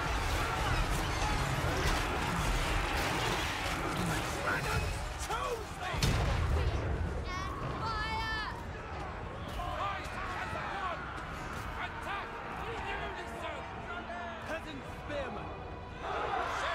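Artillery fire in the strategy game Total War: Warhammer 3, with Grand Cathay forces in battle: dense, continuous booming and thudding shots layered over the wider din of combat, with a voice talking over the top.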